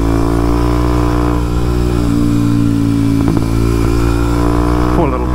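A Kawasaki KLX 230SM motorcycle with an O2 delete rides past close and loud, its deep, raspy engine note holding steady before a quick rev near the end.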